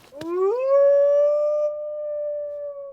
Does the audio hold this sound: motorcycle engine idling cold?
no